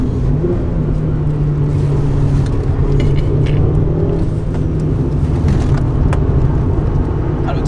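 Peugeot 106 S16 Rallye engine droning loudly from inside the car while driving, a steady close rumble with road noise and slight shifts in pitch.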